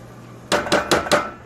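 A spoon knocks against a pot while sopa de jamon with cilantro is stirred, giving four distinct, fairly close clanks in quick, even rhythm over a faint background hum.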